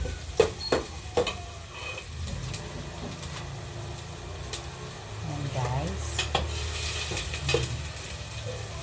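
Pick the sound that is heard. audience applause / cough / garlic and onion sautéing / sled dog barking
garlic and onion sautéing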